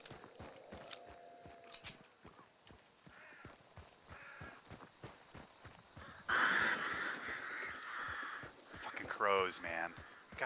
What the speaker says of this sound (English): Crows, man. God, those things are loud.